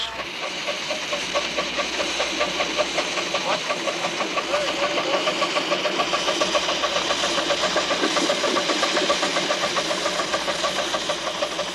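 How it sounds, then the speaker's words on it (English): A narrow gauge miniature locomotive built to run on 7 1/2-inch track, modelled on Colorado and Southern engines of 1890 to 1936, chugs steadily close by with a continuous rhythmic engine beat. "narrow gauge locomotive built to run on 7 1/2-inch track"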